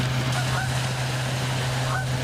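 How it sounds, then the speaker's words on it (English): Migratory geese honk faintly in the distance, with a couple of brief calls over a steady low hum of background noise. "A sign of the changing seasons as migratory birds head for warmer weather."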